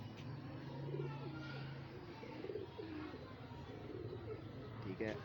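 Pigeons coo softly nearby with low, rolling calls, while a person talks in the background.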